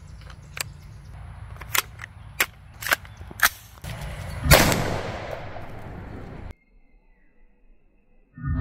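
An AR-15 fires a 5.56 rifle round at a book target: a run of sharp clicks, then one loud, close crack with a rushing tail that cuts off into near silence.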